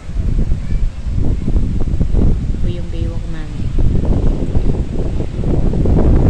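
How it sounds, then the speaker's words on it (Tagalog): Strong wind by the sea buffets the microphone with a constant low roar while a person talks over it. "Sobrang lakas ng hangin."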